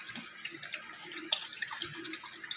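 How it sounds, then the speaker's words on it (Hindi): One litre of water is poured into a pot of raw mangoes for aam panna, giving a steady, splashy, continuous pour at close range. "ये 1 लीटर पानी डाल रही हूँ मैं इसमें।"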